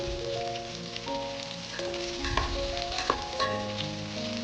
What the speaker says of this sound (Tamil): இப்போ ரஃபாக சாப் பண்ண வெங்காயத்தை இதில் சேர்த்துக்கலாம்